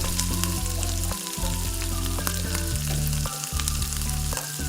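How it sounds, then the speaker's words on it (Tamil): Green turkey berries (sundakkai) sauté in a hot pan for chutney, a loud, close, continuous sizzle and crackle of frying with occasional stirring scrapes. "நல்லா நம்ம வதக்கிக்கலாம்"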